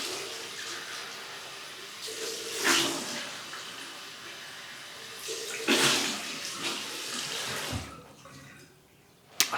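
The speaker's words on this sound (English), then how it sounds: "Cold water rinse." Cold water from a tap runs in short bursts for rinsing a LORD L6 double-edge razor during a shave, with two louder gushes and faint splashing between them in a quiet room.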